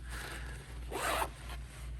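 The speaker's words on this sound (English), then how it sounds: "And then when you open it, the zippers are very nice." A zipper slides open on a water-resistant sealed tech pouch, a close, steady rasp with a brighter, louder pull in the middle over a low background hum.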